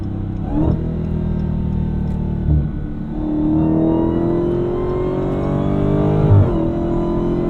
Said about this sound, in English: It's a noisy exhaust system.